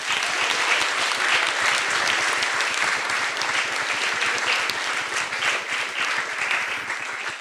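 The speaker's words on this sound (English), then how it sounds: "I think this is an applause as well" Sustained audience applause at an accessibility conference summit, a dense, steady wash of many hands clapping at even loudness throughout, close and full with no talk over it.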